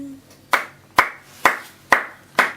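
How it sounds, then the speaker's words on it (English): Five sharp hand claps ring out at a slow, even pace, each crisp and close with a brief decay, and nothing else is heard between them. "I am clapping for you."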